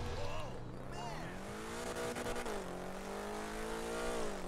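A car in a NoPixel 4.0 role-play game revs hard through a short first gear, the engine pitch climbing steadily, dropping at the shift, then rising again. People talk over the engine throughout.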